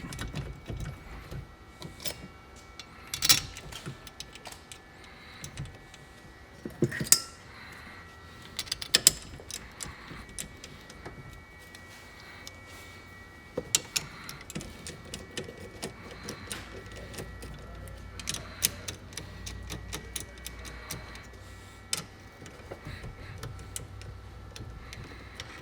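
Bolts are snugged down by hand on a steering quickener housing of a Yamaha YXZ, heard as faint ratchet clicks and scattered small metallic taps with quiet gaps between them.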